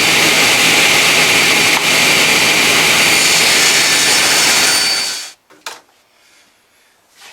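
A table saw roars loudly and steadily through a cut in an odd-shaped board for several seconds, then winds down abruptly, leaving a few faint knocks.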